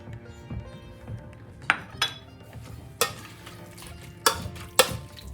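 Potatoes being mashed with butter: soft squelching and stirring broken by several sharp clinks and knocks of a utensil against the pot or bowl, close up, no voices.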